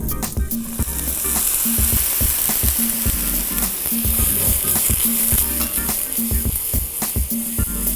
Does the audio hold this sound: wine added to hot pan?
yes